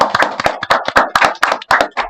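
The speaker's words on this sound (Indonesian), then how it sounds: "tepuk tangan semuanya untuk Mas Rian." A small group claps in a podcast studio, close and loud, with distinct individual hand claps in an uneven, quick rhythm rather than a blended roar.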